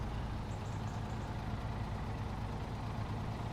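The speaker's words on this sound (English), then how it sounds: "Start the engine, get rid of handbrake." Truck engine in the SnowRunner video game starting up and settling into a steady low rumble, a continuous loud drone with no pauses and no talk.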